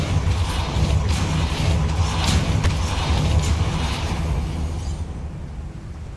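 A Depulso spell cast in Hogwarts Legacy lets out a sustained whooshing burst with rumbling low end and a few sharp crackles, fading away at the end.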